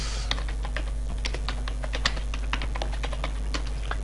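Rapid, continuous typing on a computer keyboard as a search is entered, with many crisp close keystrokes in an uneven flurry over a steady low hum and no speech.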